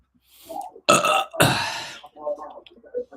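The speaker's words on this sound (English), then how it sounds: "I'm about to burp." A loud, close human burp, two strong bursts in quick succession, followed by short bits of speech and laughter-like vocal sounds.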